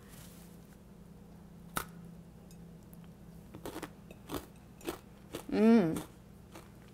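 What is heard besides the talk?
biting and chewing candy-coated pretzels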